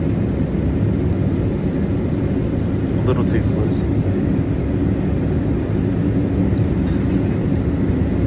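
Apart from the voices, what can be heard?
aircraft cabin noise during an in-flight meal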